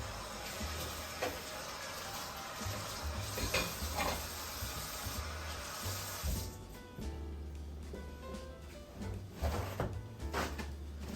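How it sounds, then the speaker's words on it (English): Tuna steaks fry in a pan of oil and butter, a fairly quiet, steady sizzle with low rumble, interrupted by a few soft pan clatters and shifting sounds partway through. "I'm gonna take these tuna steaks here, nice and easy, throw them in the pan."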